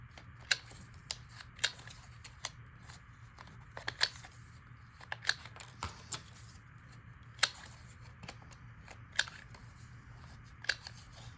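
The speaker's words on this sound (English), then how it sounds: "So what I'll do is I'll just cut it in half. And I'll round the corners." A notebook cover being cut in half with scissors and its corners rounded with a corner rounder, giving a series of sharp, close snips and punch clicks at an irregular rhythm, with no talking.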